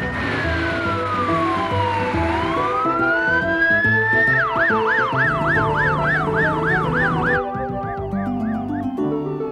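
A cartoon fire engine's siren wails loudly and continuously, sweeping slowly down and up before switching to a rapid, close warbling yelp that runs through the rest of the stretch.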